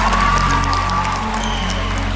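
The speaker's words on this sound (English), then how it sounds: "You can clap for that." An audience clapping in a high school setting during a youth motivational talk, a brief steady wash of applause from a crowd with faint cheering, filling the room evenly.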